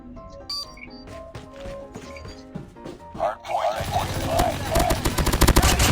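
A PPSh-41 submachine gun from Call of Duty Mobile fires in rapid bursts, loud and close, building into dense sustained automatic fire over game noise and some talk.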